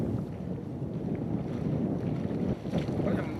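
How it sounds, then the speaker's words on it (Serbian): Wind gusts steadily by cold open water where a winter swimmer stands, a loud broadband rush with microphone buffeting that holds for several seconds and dips briefly near the end. "Vetar me osušio već."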